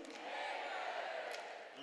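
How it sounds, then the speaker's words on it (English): A crowd cheers steadily at a Clan ice hockey testimonial game when Charlie Haywood is named as goal scorer, a broad sustained roar that holds level for the whole moment. "Big cheer for Charlie Haywood when her name is mentioned for scoring that goal."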